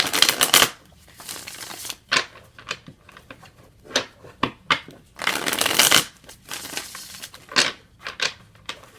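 A Hermetic Tarot card deck being shuffled by hand, repeated riffling bursts and soft slaps of the cards, close and clear, with quiet pauses between shuffles.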